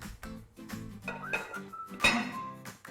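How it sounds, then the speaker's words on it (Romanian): Lid set onto a baking dish of soy roast with potatoes, a single glassy clink of metal against glass at close range amid background music and kitchen noise. "Punem capacul"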